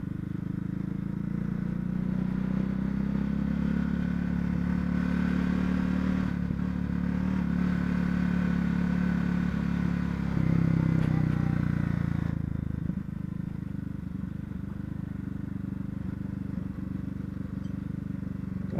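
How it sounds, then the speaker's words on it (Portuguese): A 2019 Honda CB Twister rolls slowly in second gear along a sandy dirt road, its engine a steady low drone with slight load changes, while a rider talks over it. "Botar a segunda aqui, que é pra ficar a moto mais presa no chão."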